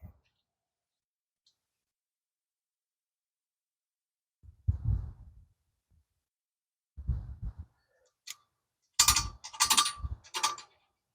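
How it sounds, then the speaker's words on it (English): A screwdriver tightening screws on a tomato string trellis, with a few separate bursts of close ratcheting clicks and scraping turns between quiet pauses. "take this being the screwdriver, and we start tightening"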